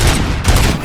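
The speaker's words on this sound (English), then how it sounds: "Gunshots? What's going on?" A loud, dense burst of rapid gunfire from the Robocop: Rogue City video game, with overlapping shots packed into less than a second and no speech.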